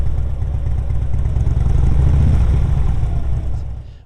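A motorcycle engine held at a minimal throttle while the clutch is slowly let out, giving a steady, close low rumble and idle-like clatter that swells slightly mid-way, then fades at the end.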